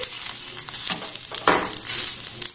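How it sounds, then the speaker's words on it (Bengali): Onions fried and gently stirred in a pan make a brief, close sizzle with soft scraping strokes and a louder stir midway, with no voices. "পেঁয়াজটাকে এবার একটু হালকা নাড়াচাড়া করে ভেজে নেব।"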